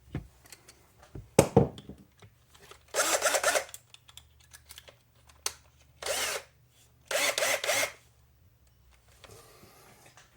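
An old power drill on a transmission job for a Slash RC truck whirs in several short bursts of one to two seconds each, separated by quiet gaps and light handling clatter.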